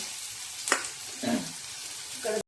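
Onion frying with cumin in a pan for a wild-vegetable curry: a steady, close hiss of sizzling oil with a few soft scrapes of stirring and no talking.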